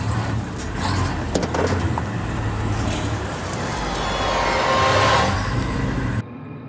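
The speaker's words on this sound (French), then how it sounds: "le chauffeur démarre pour tenter de prendre la fuite" A safari vehicle starts up and pulls away near a lion, engine rumble rising as it accelerates over a few seconds, with clatter early on, then cutting off abruptly at the end.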